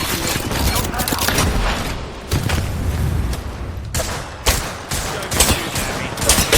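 Rapid bursts of automatic gunfire in a shooter video game, loud and dense with overlapping shots and booms, a speaking voice occasionally heard beneath the firing.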